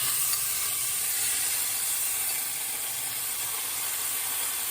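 Butter hits a hot pan for shrimp scampi and sizzles steadily, a dense, loud, even hiss that holds without pause for the whole stretch.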